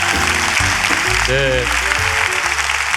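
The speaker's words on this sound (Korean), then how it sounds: "큰 박수 좀 보내주실까요?" Dense, steady audience applause after a lecture at a history and culture forum in Gyeongju, filling the hall while a voice briefly speaks over it.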